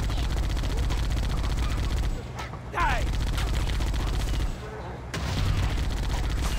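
Gunfire from the Halo video game while shooting elites: dense, continuous bursts of automatic fire with brief pauses and a few explosive sweeps, loud and close, under occasional talk.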